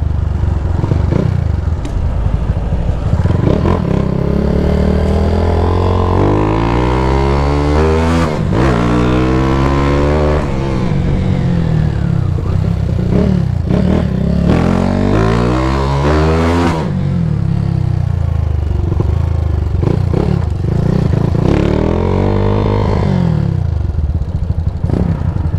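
A Honda Titan 150 motorcycle fitted with a 32mm XRE 190 throttle body revs repeatedly and loudly up close, its engine climbing and falling in pitch through several sharp throttle sweeps.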